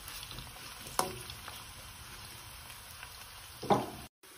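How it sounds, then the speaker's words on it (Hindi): Two medium onions, sliced, fry in a pan until golden brown for chicken pulao, giving a steady, moderate sizzle throughout with two sharper stirring clatters and no talk. "दो मीडियम साइज अनियन स्लाइस में कटी हुई को गोल्डन ब्राउन कर लेंगे, इसको फ्राई कर लेते हैं"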